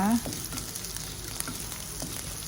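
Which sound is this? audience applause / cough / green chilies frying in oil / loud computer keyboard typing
green chilies frying in oil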